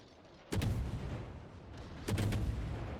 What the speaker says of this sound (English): here we have a Monarch that's firing AP against a destroyer